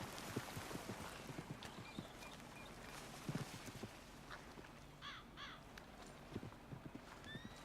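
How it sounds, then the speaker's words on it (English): Horse hooves clip-clopping in the Western game Red Dead Redemption, a steady quiet trotting rhythm with a horse whinny partway through and crows cawing in the background. "Yeah, there's some horses."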